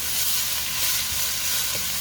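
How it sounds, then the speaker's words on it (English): Celery with leeks sautéing in a skillet for black-eyed pea soup, a steady close hiss of sizzling fat with faint bits of stirring under it and no talk. "So we're going to saute this on up"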